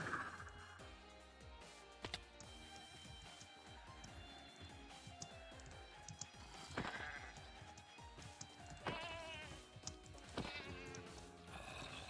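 Goats in a video game bleat repeatedly over looping background game music, with several loud, wavering bleats spaced through the scene and occasional horse-like whinnies mixed in.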